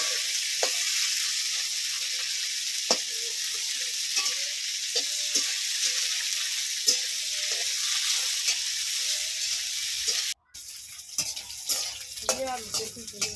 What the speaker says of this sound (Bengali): উচ্ছেগুলো কড়ার মধ্যে ভেজে নেবো